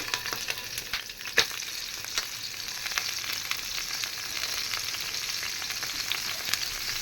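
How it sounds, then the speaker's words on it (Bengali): Small cut pieces of fish fry in hot oil, giving a loud, steady sizzle close by, with sharp pops and spits scattered through it and no voices. "তেল গরম হয়ে গেছে এখন আমি মাছগুলো দিয়ে দিই"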